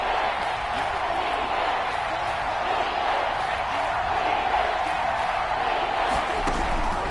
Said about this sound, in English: this crowd gets up making some noise